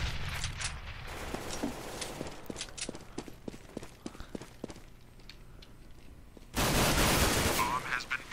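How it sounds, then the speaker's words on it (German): Rapid bursts of gunfire from Counter-Strike: Global Offensive on the map Mirage in a pro match, a string of sharp shots in quick succession followed by a louder, sustained burst of noise near the end. "schöner Schuss von Neo, kriegt auch instant den Headshot."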